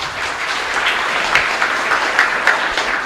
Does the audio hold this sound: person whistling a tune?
no